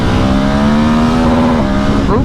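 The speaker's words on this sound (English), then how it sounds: "Oh, rev limiter." A KTM 1290 Super Adventure motorcycle engine holds a loud, steady, buzzing drone at the rev limiter, then the pitch dips and the sound stutters near the end. Roaring wind noise from riding fills the background.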